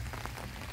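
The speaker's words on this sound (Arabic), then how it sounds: "وكتشوفوا الشتا ملي كتكون صابه" Rain falls on a rainy day outdoors, a steady, dense wash of patter with a low rumble underneath, continuous and fairly close, with no voices.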